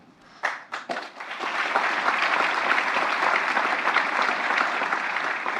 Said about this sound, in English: The crowd applauds as President Biden places the distinguished medal